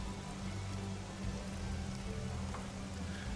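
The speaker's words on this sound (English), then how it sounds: "it has in fact begun to rain." Steady rain ambience for a tabletop game scene, a soft even hiss of falling drops on a surface, continuous and moderately quiet with no voices.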